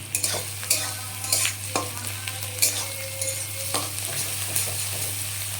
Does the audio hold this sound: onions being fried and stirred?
yes